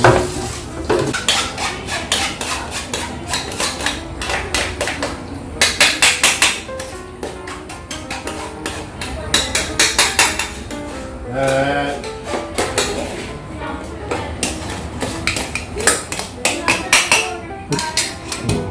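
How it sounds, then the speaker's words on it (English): Cooking utensils, pots and containers clatter and clink while being washed, a steady run of metallic knocks and rattles with brief bursts of louder banging; a voice talks at times. "put aside and keep on washing your utensil"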